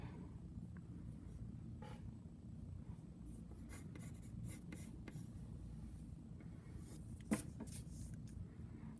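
A pencil drawing a face on paper, faint close scratching and scribbling strokes in a quiet room, with one brief louder tap near the end.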